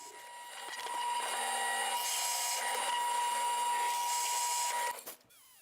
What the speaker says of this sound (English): And then I cut it out with my jigsaw.